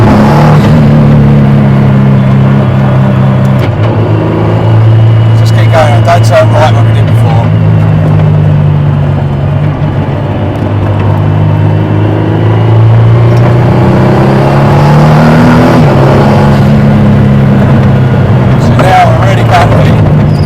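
Praga Bohema hypercar driven over a very bumpy country road, heard from inside as a loud, steady engine drone with shifting pitch and road rumble, while people talk over it.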